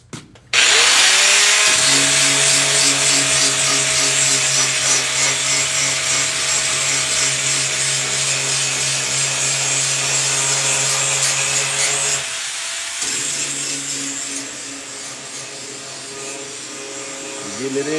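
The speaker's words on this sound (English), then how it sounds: "The first stage to start learning how to weld is to grind on and grind off." Metal grinding in a welding class, a loud, sustained power-tool whine with a steady droning pitch, briefly dipping near the end before resuming, close and continuous.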